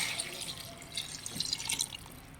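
Water pours and trickles softly into a pot, a faint splashing and dripping sound heard close up, with no voices.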